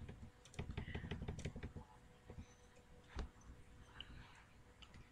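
Quiet typing on a computer keyboard, a quick run of key clicks followed by sparser taps, close and soft with little else around.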